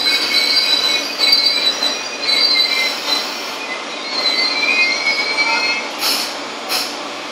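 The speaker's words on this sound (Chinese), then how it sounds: "A non-stop train is passing through the station." Through train T808, an SS8 locomotive hauling 25T coaches, runs non-stop through the station, its wheels squealing loudly and steadily with high metallic whines and faint rail clicks, close by and with no one talking.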